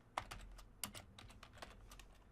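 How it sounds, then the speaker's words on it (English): Quick, light clicks of typing on a computer keyboard form an uneven burst of keystrokes, close and quiet, with no talking over them. "if I were to go over here and type midday"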